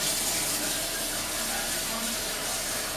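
Water running from a tap into a pot for boiling pasta shells with salt, a steady, loud, even rush of filling with no pauses throughout.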